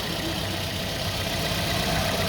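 A car engine idles steadily with a shaking complaint during a misfire check in a repair setting, a loud, continuous mid-low rumble close to the listener with no talk.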